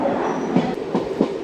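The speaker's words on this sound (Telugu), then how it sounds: "మల్కాజ్గిరి నుంచి మన ట్రైన్ బయలుదేరిపోయింది" A Kacheguda–Medak passenger train rolls along the track, its wheels beating out a steady clickety-clack with rhythmic thumps and a constant rumble heard from inside.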